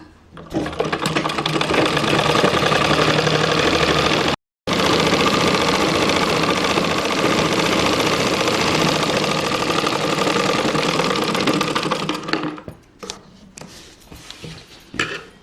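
A sewing machine runs at speed stitching a blouse, a loud continuous whirring rattle that breaks off for a split second, resumes, then slows and stops near the end with a few small clicks.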